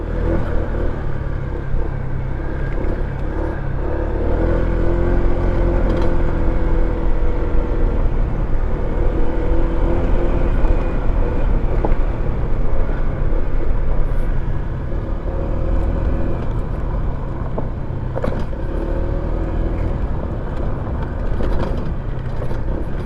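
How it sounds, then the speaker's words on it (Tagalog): A vehicle travels along a rough road in the Sorsogon–Albay–Camarines Sur area, with a loud, steady engine drone and low rumble from inside the cabin. Occasional bumps and rattles run under it throughout. "Rough road ay dinadaanan natin."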